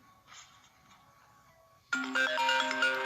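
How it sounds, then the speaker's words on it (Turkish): A telephone in the video game That Level Again starts ringing partway through with a loud, bright electronic melody after a quiet stretch of faint background sound. "Telefon çalıyor."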